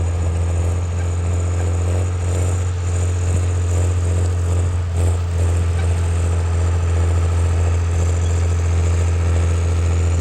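A tractor disks a field whose previous crop was sunflower, its engine a steady, loud low drone with a constant mechanical rumble throughout and no voices.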